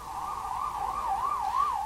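An ambulance siren wails with a rising and falling tone, steady and moderately distant, with no voices over it.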